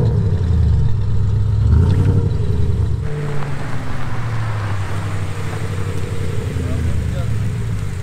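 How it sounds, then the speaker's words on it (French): An Audi RS5 with an aftermarket exhaust starts and revs aggressively at a supercar gathering, a loud deep engine note rising and falling over several seconds with people talking nearby. "là on va avoir droit au start-up de la RS5 qui fait un bruit incroyable"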